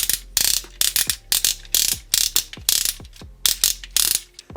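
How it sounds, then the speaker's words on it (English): Ratchet joint in a Transformers toy's leg clicking loudly and close, in quick bursts of sharp mechanical clicks separated by brief pauses, with no one talking. "Pretty strong ratchet too. Holds up the leg quite well."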